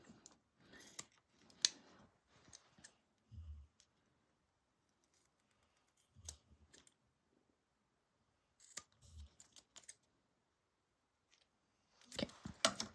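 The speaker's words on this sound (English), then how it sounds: "you could just go around and trim everything up to keep it all even" Scissors trim the fabric edges of a handmade bag, giving several short bursts of snipping and cutting separated by quiet pauses. The cuts are close and crisp, with no talk over them.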